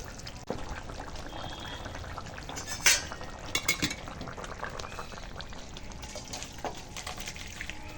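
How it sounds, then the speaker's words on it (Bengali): Rohu fish curry being poured out of a hot wok, a continuous wet pouring and trickling with soft splashes and a few sharper clinks of metal near the middle, steady and close. "মাছের তরকারিটা রান্না করা হয়ে গেছে এবার কড়া দিয়ে ঢেলে ফেলি"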